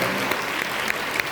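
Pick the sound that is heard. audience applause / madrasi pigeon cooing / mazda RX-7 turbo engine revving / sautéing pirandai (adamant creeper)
audience applause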